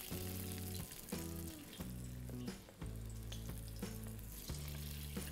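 Masala vadai fry in hot oil, giving a continuous close-up sizzle and bubbling crackle with small bursts and shifts as pieces settle, no voices.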